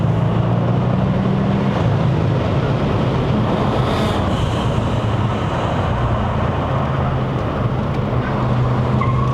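A 2012 Audi S8 with a 4.0-litre bi-turbo V8 accelerates uphill on a mountain road in Malaysia, its engine a loud, continuous drone mixed with road and wind roar from inside the cabin.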